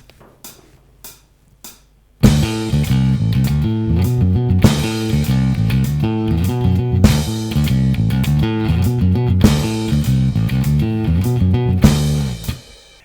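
A bass guitar plays a riff, a driving, punchy pattern of repeated notes that begins after a few faint ticks and runs loud and steady, alone without voices.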